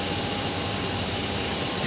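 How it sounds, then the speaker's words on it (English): Delta Airlines Airbus A321neo jet at Phoenix Sky Harbor Airport, a loud steady engine roar and broadband rush, continuous throughout. "Delta Airlines, A321neo coming from the East Coast."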